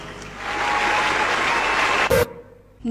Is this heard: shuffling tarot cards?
no